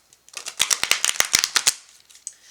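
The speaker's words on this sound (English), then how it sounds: "these cards here are almost a little too big for me to shuffle normal." Large tarot cards shuffled up close, giving a quick burst of crisp, sharp clicks and riffling snaps that fade into a soft rustle.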